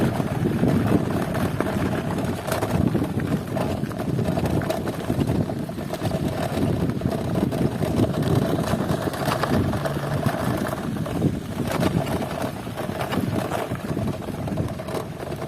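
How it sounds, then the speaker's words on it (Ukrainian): A FADA IDEA electric bike ridden along a rough road, heard as a steady rumble of wind buffeting and rattling noise, close to the microphone and continuous with no talk. "Ось так їхати на електровелосипеді по такій дорозі."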